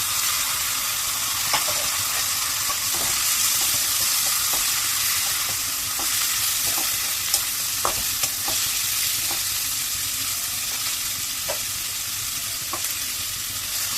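Onions and small chopped red potatoes fry in a pan with a pinch of turmeric, giving a dense, steady, close sizzle broken by light scattered clicks and stirring taps.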